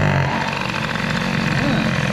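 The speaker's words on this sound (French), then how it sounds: "Et puis on va mettre un bon gros coup de gaz" Peugeot 103 moped with an air-cooled hybrid setup and a 21 mm carburettor being tuned, its two-stroke engine running loudly and steadily with a rising buzz from a throttle blip, close by and continuous throughout.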